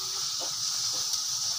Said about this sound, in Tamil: இப்போ இஞ்சி பூண்டு பேஸ்ட் ஆட் பண்ணிவிட்டு நல்லா வதக்கிக்கோங்க.